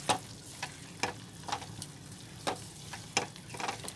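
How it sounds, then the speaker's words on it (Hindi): Coriander, turmeric and Kashmiri red chilli powder being mixed in a pan, a soft background sizzle broken by regular light spatula scrapes and taps roughly every half second, close but fairly quiet, no voices. "धनिया पाउडर, हल्दी पाउडर, कश्मीरी लाल मिर्च पाउडर, अब इसको मिक्स कर देंगे"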